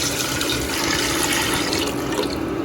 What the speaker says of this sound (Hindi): तो पानी में डाल रही हूँ 2 लीटर